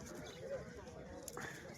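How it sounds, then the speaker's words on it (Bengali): Pigeons at a bustling pigeon market in Beldanga, with a soft coo rising briefly amid steady crowd chatter and nearby voices. "এই যে আজহার ভাই দেখুন পায়রা বের করছে এখন, বাজির পায়রা।"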